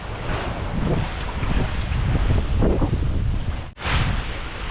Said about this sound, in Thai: เสียงลมเสียงคลื่นนี่มันทัดหัวใจจริง ๆเลยครับ